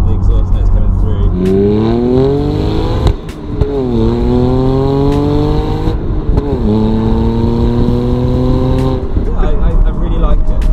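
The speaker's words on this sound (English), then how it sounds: "As soon as the roof comes down, you get the back of the exhaust notes coming through." A 300 hp BMW Z4 sDrive35i with its roof down, loud close exhaust note rising through the revs in several repeated accelerations with brief gear-change dips, tones sweeping upward each time.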